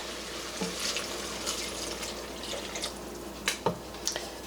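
Canned Swanson's 100% beef broth poured into a pot of hamburger soup, a soft continuous liquid trickle and splash with a few brief drips and plops near the end, quiet and close.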